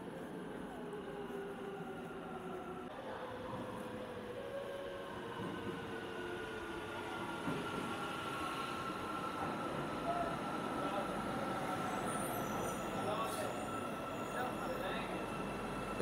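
A crowded metro train in Turkey rolls along at steady speed, a continuous rumble with rail hum and faint wheel whine filling the whole stretch, while voices murmur faintly underneath.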